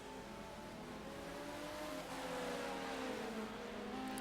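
Race cars in the rFactor 2 racing game at Silverstone, a steady whine of several engines at once as faster cars lap slower GT cars, fairly faint and continuous with rising and overlapping engine tones.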